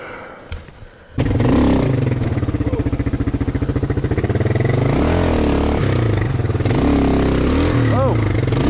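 A Kawasaki KLR motorcycle engine starts abruptly after a brief quiet moment, then rumbles loudly and close with a throbbing pulse and rising revs as it rides off.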